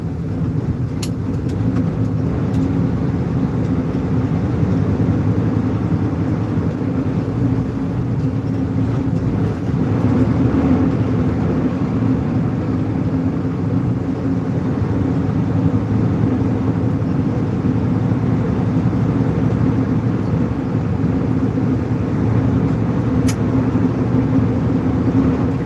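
Low, unbroken engine rumble fills the cab of a sleeper truck on the road, steady and fairly loud throughout with faint road noise and no talking.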